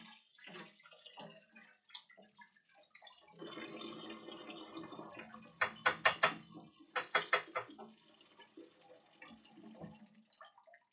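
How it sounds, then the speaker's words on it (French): Cold tap water runs over a Nintendo console part being rinsed, a steady splashing stream with uneven bursts and drips, close and fairly quiet, heard alone. "Un petit rinçage à l'eau froide."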